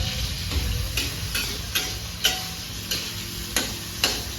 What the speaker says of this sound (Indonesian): Kita panggangnya tak gorengi pemirsa.